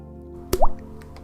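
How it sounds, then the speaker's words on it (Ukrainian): A single water drop lands with a crisp plop and a quick rising bloop, close and clear against a quiet background. "Це був блоб від краплі води,"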